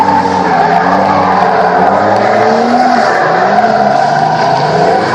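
Federal Tyres drift car number 17 screaming around a track, a loud steady engine roar with rising and falling revs and tire squeal, close and dominant with no talk.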